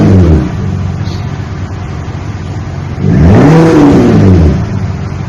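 A 2025 Ram 1500 pickup with a Flowmaster 50 muffler revs twice, its deep exhaust rumble swelling and falling each time over a steady idle drone, heard loud and close from behind the truck.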